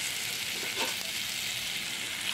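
Spices with cumin powder sautéing in a pan for a Bengali vegetarian dish: a soft, steady sizzle and crackle of frying, quiet and continuous with a slight stirring swell partway through.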